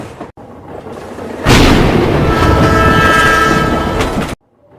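A cartoon-style train sound effect plays loudly for about three seconds, with rolling wheels clattering on rails and a horn-like tone, then cuts off abruptly into near silence.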